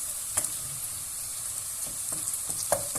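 Red peppers and garlic sautéing in a pan for a vegetable soup, a steady soft sizzle with a few sharp stirring clicks and scrapes scattered through, close and alone without talk.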